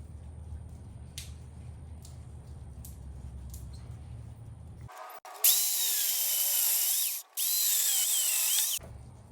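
A chainsaw cuts wood while a decorative tree is carved, roaring loud and close for about three seconds, breaking off briefly, then roaring again before stopping, after a quieter stretch of faint tapping and low background noise.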